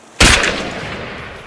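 A single loud, close gunshot cracks out sharply, followed by a long reverberant decay rolling away over the next second or more, with no talking in between.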